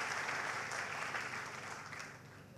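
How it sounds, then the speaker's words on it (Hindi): Audience applause at a company presentation, a steady, dense wash of clapping from a sizeable crowd that holds throughout and eases slightly toward the end, with no voices over it. "तो तालियां होनी चाहिए."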